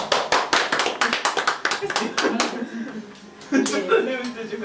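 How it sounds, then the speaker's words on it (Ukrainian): Applause from a small group gathered for a birthday party, starting as brisk, dense clapping, thinning into scattered claps, then swelling again briefly near the end, with people chatting over it. "я ваші аплодисменти приймаю"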